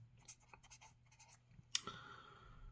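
Chinese characters being handwritten with pen on paper, short faint scratching strokes in a quick sequence with a brief sharper tap near the end, quiet and close.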